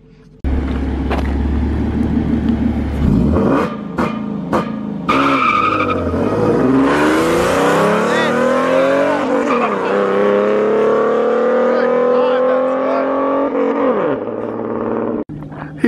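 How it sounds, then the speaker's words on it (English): A Ford Mustang fitted with two-step launch control pops and crackles on the limiter, then launches hard with loud tyre squeal and a rising engine howl through the gears, close and aggressive, before cutting off abruptly. "Brandon down there is about to run the Mustang. They just tuned a two-step on it, which is like launch and all that stuff."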